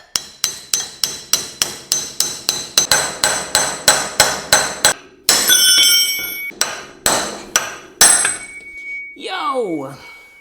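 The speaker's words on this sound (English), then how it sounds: "you're gonna need a pickle fork for that to pop this ball joint free of the A-arm" A pickle fork is hammered under a tie rod to pop the ball joint free on a 2014 Polaris Sportsman 570 ATV. About twenty loud, close metallic hammer blows come at a steady rhythm, then a ringing clank and a short exclamation at the end.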